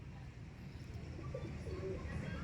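Pigeons coo softly in a rural outdoor setting, a low murmuring call repeating faintly over steady background noise.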